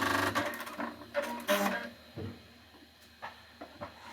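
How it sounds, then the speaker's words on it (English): Sewing machine stitching a quarter-inch seam on hexagon quilt blocks, a few short bursts of mechanical whirring and clatter, close and moderately loud, then quieter handling taps. "you're going to sew a 1/4 inch,"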